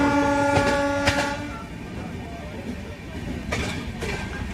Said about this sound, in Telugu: అలాగే మనకు ఆపోజిట్లో కూడా ఒక ట్రైన్ వెళ్తుంది మనకు విజయపాలెం నుంచి.